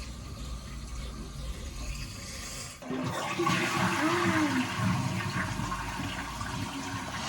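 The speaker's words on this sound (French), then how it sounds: "Vas-y, tire la chasse maintenant." A toilet flushes in a barn being converted to a home with newly connected water, a steady rush of water starting abruptly near the middle and continuing loudly to the end over a low background hum.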